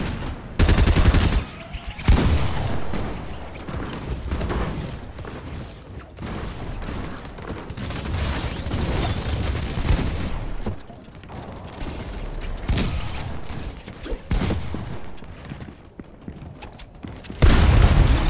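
Fortnite Creative red-versus-blue match with a dense run of gunfire: repeated loud shots and bursts in rapid succession, some close and booming, layered with mechanical game sounds and no speech.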